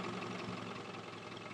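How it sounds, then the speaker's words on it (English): A 1925 Bentley 3 Litre engine idles smoothly and steadily at close range, a continuous even rumble with no other sounds. "It's a smooth engine."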